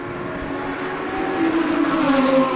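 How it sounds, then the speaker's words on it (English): Two Ferrari race cars roar into a corner at a racing circuit, their engine note rising and swelling louder as they approach, a sustained high-revving drone with no voices. "2 Ferraris going into gate corner."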